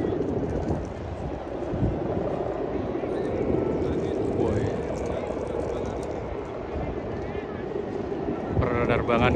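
A large Mata Dewa kite flying in strong wind at the JLS airfield in Puger, Jember, gives off a steady, droning hum with wind buffeting, while voices talk over it.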